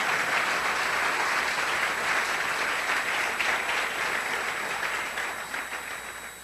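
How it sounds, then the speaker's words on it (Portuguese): A church congregation claps for Jesus during a service: a full, continuous wash of hand-clapping from many people that starts at once and gently tapers near the end. "Aplauda o Senhor Jesus, meus irmãos, aleluia"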